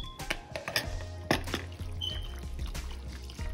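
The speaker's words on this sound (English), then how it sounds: "I'm gonna go ahead and take my eggs and I'm gonna pour them in" Beaten eggs pouring into a dish of macaroni for a baked Thanksgiving mac and cheese, a soft close liquid trickle with faint kitchen knocks and no talk.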